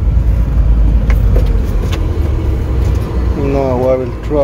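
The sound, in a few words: Ford Transit ventilation blowing cool air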